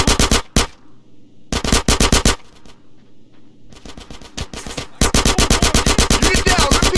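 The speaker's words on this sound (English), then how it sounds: "Get some suppressing fire in there." Loud bursts of automatic gunfire in GTA San Andreas, several rapid volleys separated by short lulls with quieter background rumble, ending in a long continuous burst.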